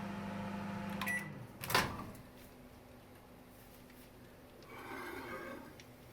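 LG charcoal microwave oven running while butter cooks down into ghee, a low steady hum with a brief clunk and rattle near the start, faint and close, with no voices.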